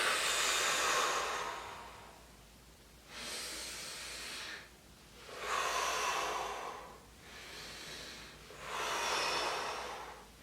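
A person breathing slowly and audibly during a neck stretch, with four long, soft, airy breaths spaced a few seconds apart, close and quiet.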